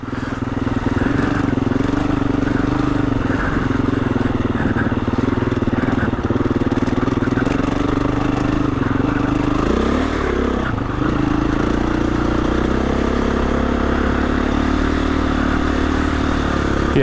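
A KTM off-road motorcycle churns through slippery, icy mud, its engine droning loud and close with constant clatter and a few revving surges as the bike weaves along.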